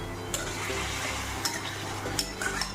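An onion and ginger paste fries in mustard oil for a Bengali fish curry and is stirred, making a soft continuous sizzle with a few light scrapes and taps of the spoon against the pan.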